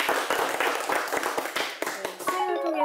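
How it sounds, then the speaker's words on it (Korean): An audience at a religious quiz-show taping claps in a quick, fairly dense burst. The applause fades near the end as a voice and tonal sounds come in. "네, 박수 한번 부탁드립니다."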